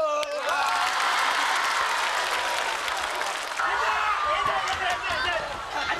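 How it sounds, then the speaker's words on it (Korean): Studio audience of a KBS comedy show clapping, a sustained wash of crowd applause with voices and laughter mixed in throughout, fairly loud and continuous, swelling again toward the end. "박수."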